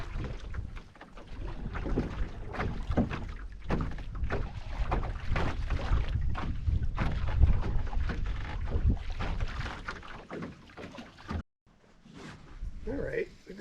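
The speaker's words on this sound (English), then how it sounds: "I'm going to paddle upwind to the far end of the lake" A kayak paddled upwind across a breezy lake: steady wind rush and microphone buffeting with soft paddle splashes and water movement throughout, briefly cutting out near the end before resuming.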